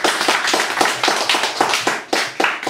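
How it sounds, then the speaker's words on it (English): An audience at a poetry reading applauds, a dense, steady burst of clapping from many hands that runs throughout. "So more applause, please, for Katrina."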